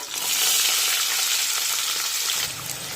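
Finely chopped onions, two medium ones, sizzle steadily in a hot pan with curry leaves over a medium flame, a dense continuous frying hiss that holds loud and close throughout.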